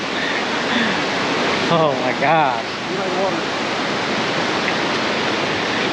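Loud, steady rush of a waterfall seen up close fills the whole stretch, with a person's excited exclamation cutting briefly through the roar.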